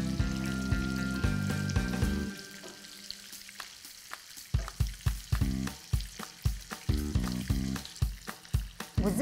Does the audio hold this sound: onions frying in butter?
yes